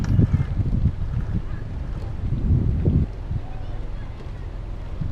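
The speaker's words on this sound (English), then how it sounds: "Just to stop the rotation, I get the starboard engine in forward a short period." Boat engines during docking in central Stockholm, a low rumbling churn with gusty wind buffeting the microphone, steady and fairly close, with a surge in the middle.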